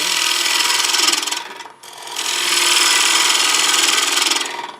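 A bowl gouge cuts across a spinning wooden plate on a lathe, working against the grain, giving a steady loud rasping scrape that breaks off briefly near the middle before resuming.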